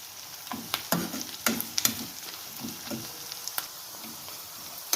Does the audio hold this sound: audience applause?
no